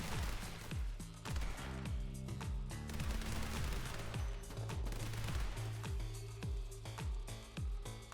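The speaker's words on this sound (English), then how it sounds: "Gunfights in full real time are pure chaos" Rapid gunfire from the video game The Hong Kong Massacre crackles in dense, continuous volleys, with overlapping shots and impacts layered over a pulsing backing track.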